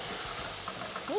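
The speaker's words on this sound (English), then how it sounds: "Ooh, flambe." A pan flares up in a brief flambe, giving a close, steady rushing hiss and sizzle over about a second, with a short voice sound near the end.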